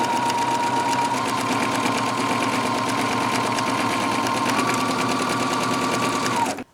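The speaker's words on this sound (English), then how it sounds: "we're going to stitch it all the way around" Sewing machine stitching around a fabric cover for an N95 face mask, running steadily and loudly at close range with an even mechanical whir for several seconds before stopping abruptly.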